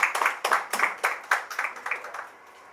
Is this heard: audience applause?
yes